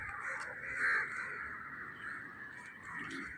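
Crows caw close by, a loud harsh call early on followed by fainter cawing, over a constant high buzzing drone.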